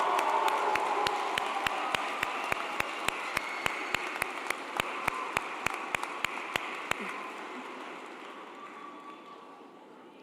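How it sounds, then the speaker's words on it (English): Sustained applause from a large crowd at a spring graduation ceremony for a College of Education, broadband and steady for about seven seconds before tapering into a fading murmur. "Let's give them a big round of applause."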